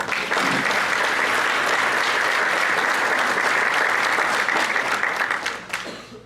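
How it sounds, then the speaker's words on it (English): Audience at a high school honor student breakfast breaks into a round of applause, dense steady clapping filling the room for several seconds before tapering off at the end. "I'll give him a round of applause."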